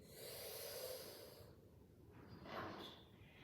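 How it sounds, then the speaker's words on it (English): A yoga cooling breath, air drawn in through the mouth over the tongue, comes as a soft, close hissing inhale followed by a second breathy rush, quiet and unaccompanied by talk. "breathe in through your mouth, so the air hits the cool moisture on your tongue and cools you"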